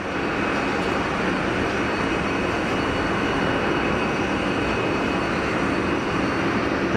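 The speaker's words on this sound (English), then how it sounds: "Do you see the prop go into beta?" Propeller aircraft landing with the prop in beta, giving a continuous broad, loud engine roar that stays steady and unbroken throughout.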